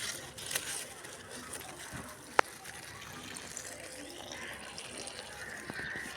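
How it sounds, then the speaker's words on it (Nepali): Water splashes and trickles onto flowers in a soft, fairly quiet stream, broken by a sharp click and a few faint bird chirps. "यहाँ अहिले पानी राख्दैछ,"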